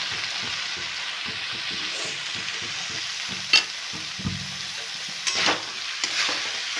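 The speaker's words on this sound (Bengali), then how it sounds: "খুব ভালো করে এঁচোড়টাকে মশলার সাথে পুরো নাড়ি চাড়িয়ে" Boiled jackfruit frying in spice paste over a lowered gas flame, a soft crackling sizzle broken by rhythmic scraping strokes of stirring and a few sharper clinks of a utensil against the pan.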